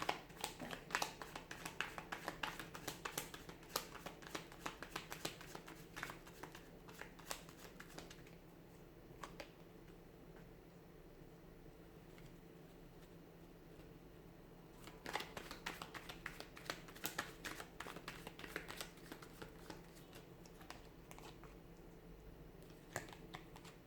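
Tarot cards are shuffled and riffled close by in bursts of rapid papery flicking and tapping, with a quieter pause in the middle before the shuffling picks up again.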